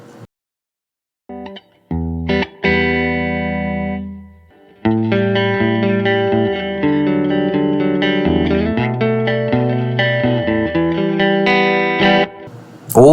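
Electric guitar played through a Fender '65 Super Reverb amp model on a Fender Tone Master Pro multi-effects unit: a few sparse picked notes, then sustained strummed chords and arpeggios with reverb, loud and close, no voices.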